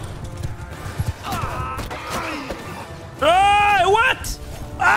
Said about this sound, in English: That's a lot of horses stuck there